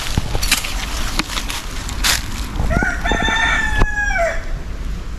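A rooster crows once from mid-distance on a farm with wood being worked nearby, its long rising-then-falling call standing out over a steady, noisy background with scattered knocks.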